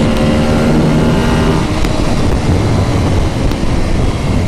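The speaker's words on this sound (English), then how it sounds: "Oh, that noise. V-twin for the win, people." A Ducati 848 superbike V-twin engine runs loudly nearby, a rough, steady rumble with a slight pitch drop early on and small fluctuations, heard alone without speech.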